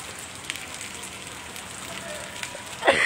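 Steady rain hisses down at Daya bus terminal in Makassar, a dense, even wash of drops that holds throughout, with a brief louder splash near the end.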